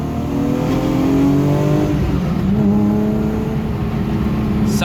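Up close and loud, a BMW E36 M3's straight-six engine accelerates at full throttle, its pitch climbing steadily through the revs with a brief dip at a gear change before pulling again.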